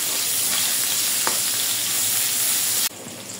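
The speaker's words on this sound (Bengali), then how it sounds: "রান্নার জন্য তেল দিয়ে দিলাম, পেঁয়াজ কুচি দিয়ে দিলাম আধা কাপের মতো।" Chopped onion, about half a cup, fries in oil in a pan for a katla fish and raw banana curry, giving a loud, steady, close sizzling hiss that drops abruptly near the end.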